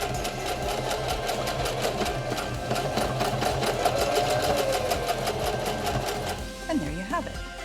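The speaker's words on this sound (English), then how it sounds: "When you sew your jeans hems, make sure you just slow down a little bit when you do these" A SINGER denim sewing machine stitches a jeans hem with a fast, steady mechanical rattle of needle strokes close by, then slows and stops near the end as a voice begins talking.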